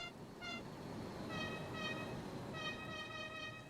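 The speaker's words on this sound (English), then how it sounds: "And there's Doppler on the horn." BR648 diesel railcar horn in a Train Simulator game, several faint tonal toots in short bursts over a low rumble, shifting in pitch as the Doppler effect passes, with no voices.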